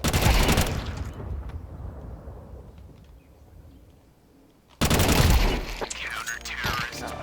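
Gunfire in the video game Counter-Strike: dense bursts of rapid shots at the start and again after a quieter lull, loud and close, with a person talking during the gameplay.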